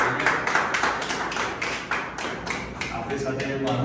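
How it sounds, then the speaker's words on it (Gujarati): An audience at a solo painting exhibition claps in a brief burst of scattered, moderately close hand claps. "તો તાળીઓના ગડગડા સાથે પહેલા શરૂઆત કરીએ"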